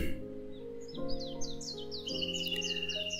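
Birds chirp outdoors on a spring day, repeated bright tweets and short rising calls layered over a soft low hum, fairly close and clear.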